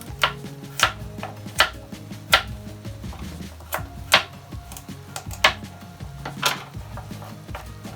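A knife chops carrots on a board for a beef stew with steamed vegetables, about a dozen crisp, evenly spaced cuts with short pauses between, close and clear with faint background hum.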